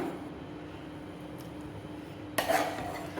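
Mutton and mashed gongura leaves with coriander stirred together in a pot, with a faint scraping of the spoon against the metal that turns into a louder clattering, clinking burst near the end.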